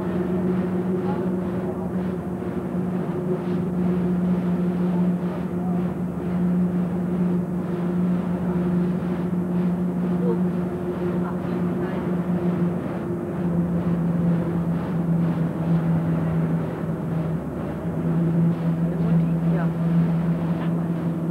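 Warnow ferry crossing between Schmarl and Oldendorf in Rostock, a steady low engine drone with constant hum throughout, while people talk in German nearby.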